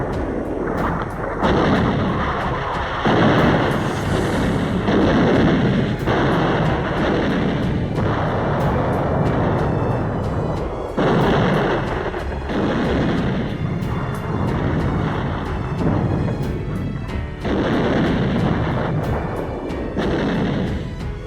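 A naval artillery bombardment of Iwo Jima, heavy gunfire booming in repeated loud blasts over a continuous roaring rumble, with sharp impacts recurring every few seconds.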